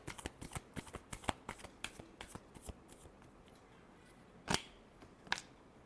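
Tarot cards shuffled by hand in a quick run of crisp riffling flicks and taps, close and fairly soft, ending with a couple of sharper snaps after a brief pause.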